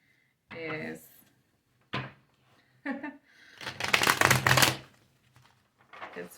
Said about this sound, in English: I can't even finish shuffling.